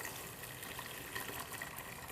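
Water pours into an onion slurry while mujaddara cooks, a quiet, steady liquid stream with a gentle gushing texture and no break.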